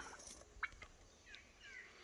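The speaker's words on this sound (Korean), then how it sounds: "좌측편에는 칠면조를 키우고도 있습니다" Turkeys on a rural farm give a short burst of gobbling, faint and somewhat distant, with a few brief calls over quiet outdoor background.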